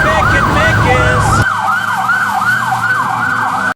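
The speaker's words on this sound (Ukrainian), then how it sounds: "Пожежна машина виїхала з депо і мчить просто в центр міста." A cartoon fire engine's siren wails loudly in repeated rising-and-falling sweeps as the truck leaves the station, with background music and effects dropping away partway through while the siren continues alone.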